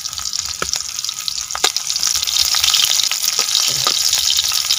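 Chopped onions hit hot oil in a village-style pork curry pan, giving a loud, dense, continuous sizzle that swells a little as they settle, with faint stirring clicks and no voices.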